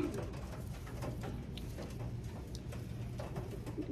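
Racing pigeons coo steadily and close by, with soft overlapping low calls and a faint patter of wings and movement throughout, during a headwind race.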